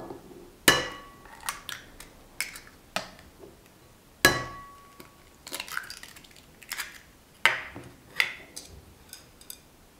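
Three eggs beaten in a bowl for bread dough, with irregular clicking taps of the utensil against the bowl in short bursts, fairly close and with no talking.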